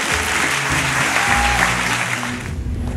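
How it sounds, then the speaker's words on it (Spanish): Audience applause fills a comedy stand-up show at Centro Mori Recoleta, a dense steady wash of clapping with some crowd noise, loud and close, thinning toward the end. "Aplauso."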